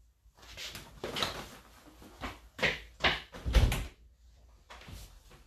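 Several thumping knocks and rattles of a door near the front entrance, irregular bursts with short pauses between them.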